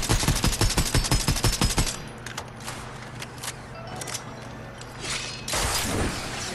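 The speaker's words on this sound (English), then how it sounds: "Who is just shooting over here?" Rapid bursts of Fortnite gunfire rattle loudly for about two seconds, then quieter scattered shots and game ambience follow, with another loud burst near the end.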